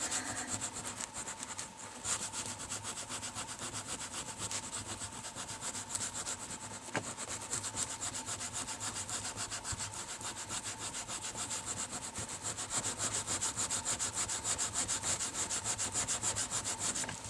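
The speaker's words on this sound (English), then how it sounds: "Put a bit of a blob on a rag, and then just rub it in." A rag rubbing a blob of finish into the wood of a 1964 Vox Lynx guitar, a steady continuous scrubbing swish with a fast back-and-forth rhythm, close and fairly quiet, with no talking.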